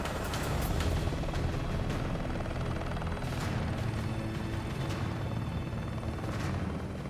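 A rescue helicopter lifts off near an Everest camp at high altitude, its rotor and turbine roar loud, close and steady throughout, with faint rhythmic blade thumps pulsing through the continuous wash of engine noise.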